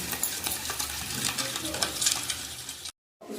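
Spice masala for an egg curry with yogurt fries in a pan, giving a continuous sizzle with busy stirring scrapes, close and fairly quiet, then a brief abrupt silence near the end.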